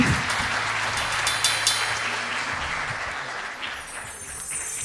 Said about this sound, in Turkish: Kocaman bir alkış alabilir miyim?